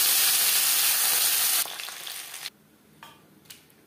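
Katla fish frying in a wok, with a loud, steady sizzle that drops off sharply partway through, then fades to near quiet with a couple of light clicks from the pan.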